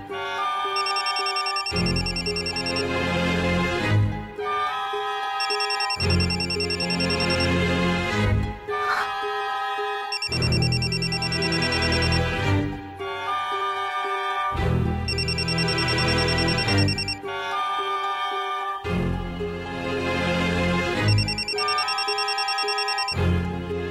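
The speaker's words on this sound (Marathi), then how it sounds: "अर्जुन हा का फोन करतोय मला?" A phone rings with an incoming call, a loud melodic ringtone repeating in regular bursts with short pauses, alone with no talking, for about twenty-four seconds.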